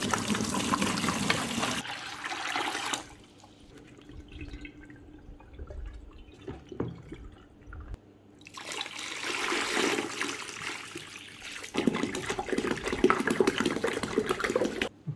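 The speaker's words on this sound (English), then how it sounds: "I'm going to submerge this in water with bleach" Water splashing and trickling as a yellowed plastic part is pushed down into a water and bleach bath, with bursts of sloshing at the start and again later, separated by a quieter stretch of faint drips.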